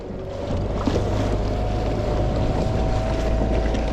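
Newport NT30 3HP electric outboard motor pushing a Jonny Boats Bass 100 kayak across open water, a steady drone under constant wash of water and wind, held at an even level throughout.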